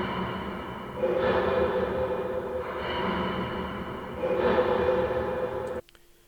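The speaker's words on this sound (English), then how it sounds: "the Percloop sounds like this." A percussion loop in an R&B sample plays alone, washed out by too much reverb. It forms a hazy, smeared wash with soft swells roughly every one and a half seconds, then cuts off abruptly near the end.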